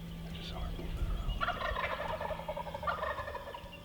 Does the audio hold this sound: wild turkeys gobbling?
yes